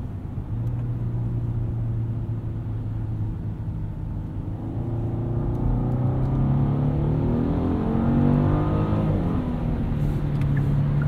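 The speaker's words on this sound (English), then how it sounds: "A little bit more engine noise in sport mode." A 2023 Genesis G90 3.5T V6 in sport mode accelerates from inside the cabin, its smooth hum rising steadily in pitch through quick gear changes, moderately loud and without talk.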